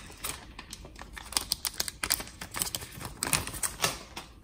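Green iPhone 12 box being opened, a soft run of quick scraping, sliding and clicking packaging noises, close and fairly quiet, with no talking.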